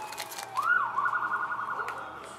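A short siren sound effect rises and wails in a sweeping tone, then holds steady before fading, moderately loud against a quiet background.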